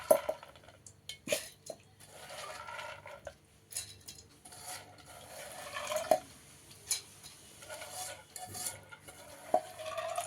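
Idli batter made from blended urad dal and soaked idli rava being mixed by hand in a bowl, with wet squishing and stirring sounds broken by occasional clinks of the vessel.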